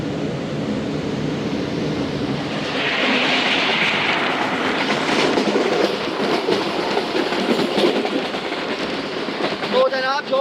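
The Musapak Express passenger train runs at night, a loud continuous rolling rumble with rhythmic clatter of wheels over rail joints and a rising hiss partway through.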